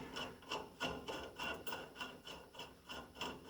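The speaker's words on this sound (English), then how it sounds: "before I start torquing on these bolts" Wrench work on the U-bolts of a 1989 GMC truck: a steady series of about ten rhythmic ratcheting rasps, close and fairly quiet, with no speech.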